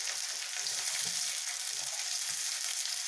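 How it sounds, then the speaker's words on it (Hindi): Chopped onions hit garlic already frying in a pan, giving a steady, close, even sizzle with no voices. "अब इसमें हम कटे हुए प्याज डाल देंगे"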